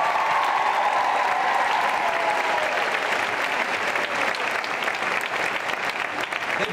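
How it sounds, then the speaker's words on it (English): A theater audience at a high school theater awards show gives a round of applause for the Ottawa Citizen newspaper, a dense, steady roar of many hands clapping at once that holds evenly for several seconds. "Let's give them a round of applause."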